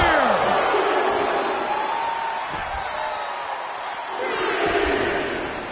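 A loud, continuous arena crowd roars and cheers during a WWE 2K26 wrestling video game match. The noise swells in waves, with some whoops rising above the dense crowd.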